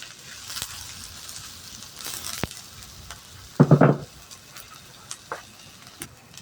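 Small-diced bell pepper sautéing in a hot pan, a soft steady sizzle with a brief louder burst of stirring partway through, a few faint clicks around it.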